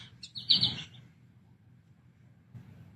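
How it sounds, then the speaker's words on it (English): A short burst of high bird chirps rings out near a mansion's grounds at the start, then fades to a quiet outdoor hush with a faint low hum. "at the mansion, you hear the birds."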